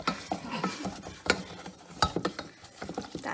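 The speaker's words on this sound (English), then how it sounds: "We're gonna stir that very thoroughly." A spoon stirs milk into a mixture in a bowl, producing close, busy scraping and clinking in an uneven rhythm with no talking.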